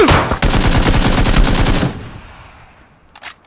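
A rapid, loud burst of automatic gunfire in a video game duo match lasts about a second and a half, then fades into a ringing tail with a brief faint crack near the end.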